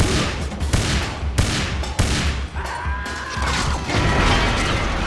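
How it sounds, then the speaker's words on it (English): Heavy gunfire during a chaotic battle in the James Bond game 007 Everything or Nothing: loud, continuous volleys of shots and impacts with sharp cracks throughout and no pauses. "They're even shooting each other in all the chaos."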